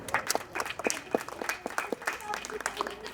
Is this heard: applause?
yes